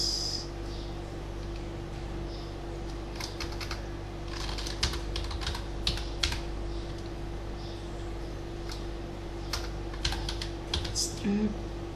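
Code is typed on a computer keyboard in bursts of quick clicking keystrokes over a steady electrical hum, with speech now and then.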